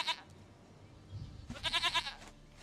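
In The Witcher 3 a goat bleats briefly at the start, then after a quiet gap lets out a longer, wavering bleat of several pulses, clear and close, with no voices.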